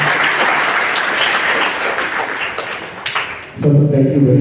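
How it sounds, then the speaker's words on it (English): An audience applauds at the close of an exam-fear and study-skills session, steady dense clapping for over three seconds before it fades and a voice takes over. "Once again, a big round of applause to"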